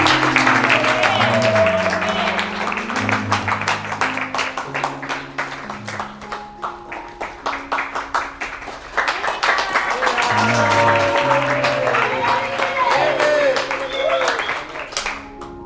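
A church audience claps steadily and rhythmically for a woman called forward to testify, the applause running continuously alongside voices and tonal music, swelling again midway and staying fairly loud throughout.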